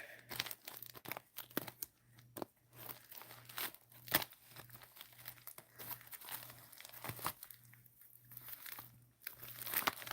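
A paper package is cut and torn open by hand, giving irregular crinkling, tearing and rustling bursts over about ten seconds, close and fairly quiet, with no talk.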